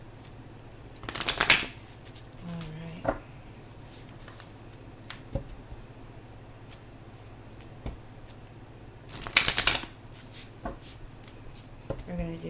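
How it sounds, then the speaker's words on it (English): Tarot cards being shuffled during a water signs reading, two loud riffling bursts near the start and later, with faint handling in between and brief talk. "do some quick shuffles, and see what Spirit has to say to you"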